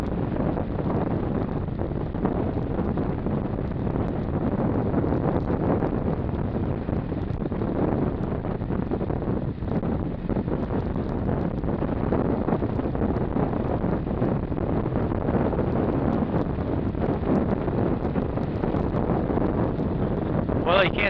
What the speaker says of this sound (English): A little bit windy today. A little bit windy. Hope it's not too bad on this mic.